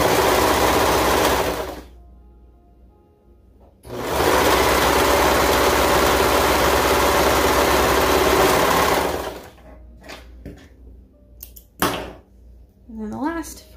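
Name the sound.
sewing machine stitching leotard side seams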